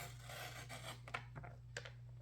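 Card stock being cut down to 1 7/8 inch for a fun fold card: a dry rasping scrape of blade through paper, then a few short separate snips and rubs, close and quiet over a low steady hum.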